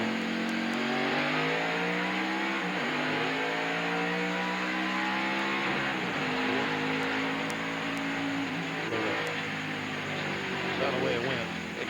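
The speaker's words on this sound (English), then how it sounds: "Let's listen in as Jeff Burton comes up to speed." Jeff Burton's NASCAR race car accelerates back up to speed after a restart, its engine note rising steadily over a long stretch, with a commentator talking over it.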